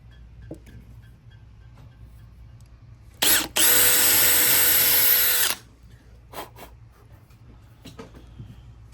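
A power drill with a brad point bit bores into a Gibson ES-355 guitar body for a Bigsby install, a short whirring burst of about two seconds preceded by a brief spin-up, with quiet workshop clicks around it.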